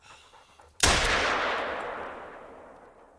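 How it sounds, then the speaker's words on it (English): A single loud rifle shot rings out at a deer in the hunting game theHunter: Call of the Wild, a sharp crack after faint ambient sound, followed by a long, slowly fading echoing rumble across the landscape. "Figured I'd take a shot at him just to see."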